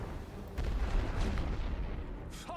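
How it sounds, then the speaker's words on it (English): Artillery barrage in the World War I strategy game The Great War: Western Front, heard as a dense rumble of low booms and distant blasts rolling continuously, with a sharper crack near the end. "They're hitting me with artillery pretty hard."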